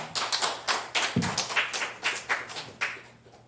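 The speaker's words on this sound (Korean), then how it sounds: "우리 나오실 때 박수로 환영하겠습니다" A small church seminar audience claps in a loose, uneven rhythm for a few seconds, close by and moderately loud, with no talking.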